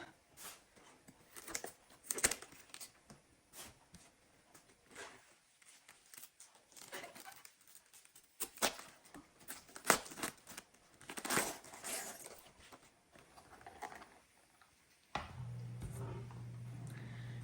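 Knife cutting the bad outer leaves from a cabbage for Polish cabbage rolls: repeated close crisp slicing, tearing and crunching strokes in irregular bursts, followed by a steady low hum at the end.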